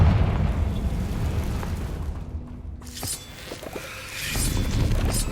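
A Confringo spell bursts with a heavy explosive boom in Hogwarts Legacy, followed by crackling debris and swelling magical effects in a tomb setting, with no talk.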